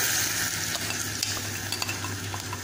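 Marinated mutton frying in a pan with browned onions for village-style mutton curry, a steady loud sizzle with scraping stir sounds and occasional clicks, continuous throughout with no talking.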